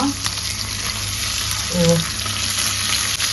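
Fish coated in green chili and coconut powder frying slowly in a flat pan, giving a steady, close, continuous sizzle with a brief stir partway through.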